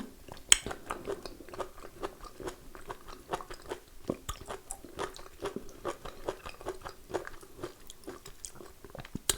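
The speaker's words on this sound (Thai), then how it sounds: "เรามาทำมาลองชิมสับปะรดกันค่ะ" Someone chewing pineapple pieces from a Thai pineapple curry, giving soft, close, irregular crunchy bites and wet chewing with no talking.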